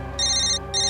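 A phone rings with two short, bright electronic trills over a steady low hum.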